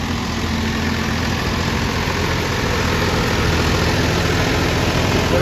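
A steady, low tractor engine idle rumbles continuously throughout, with an even vibrating drone and no other sounds.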